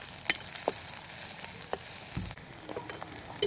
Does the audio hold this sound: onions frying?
yes